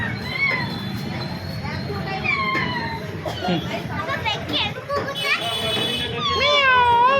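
A cat meows a few times, its drawn-out cries rising and falling, while people and children talk nearby.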